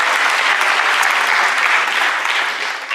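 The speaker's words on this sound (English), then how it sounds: "Let's give applause." An audience at an entrepreneurship keynote event gives loud, dense applause for a presenter, a continuous wash of clapping that eases slightly toward the end.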